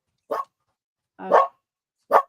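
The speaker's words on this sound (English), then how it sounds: "Sorry, you hear the barking." Three separate dog barks, fairly close and loud, spaced about a second apart with silence between them.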